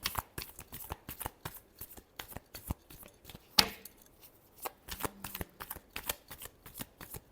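Tarot cards being shuffled close up in repeated quick riffling bursts, crisp papery flicks with brief pauses and one sharper snap midway.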